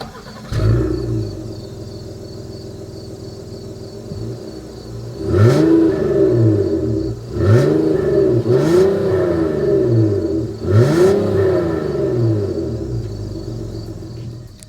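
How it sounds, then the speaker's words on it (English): Exhaust of a 2025 Honda Odyssey minivan: a steady idle rumble broken by three sharp revs that rise and fall back, heard close and loud with no talking. "As always, here is that exhaust clip."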